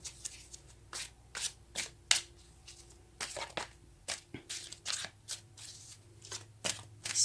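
Tarot cards are shuffled and drawn by hand, close and fairly quiet, with a run of sharp riffling bursts and soft slaps spaced irregularly across several seconds and no voices.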